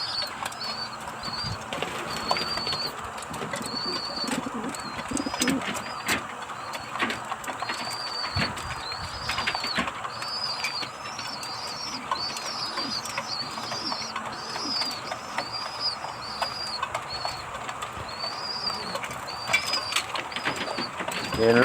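Pet racing pigeons coo repeatedly while feeding, close and fairly loud, with bursts of wing flapping and pecking sounds over steady background noise.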